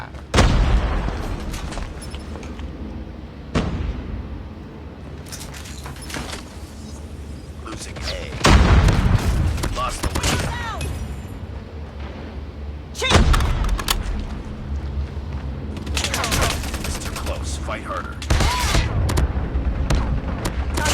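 Video game gunfire crackles in repeated loud bursts and booms over a continuous rumbling battle backdrop, with a voice heard at times.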